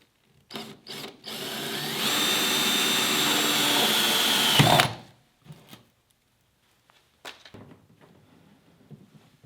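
A power drill with a paddle bit spins up and grinds steadily for a few seconds, boring a hole in a kayak close by, then stops, followed by a few scattered knocks and clatters.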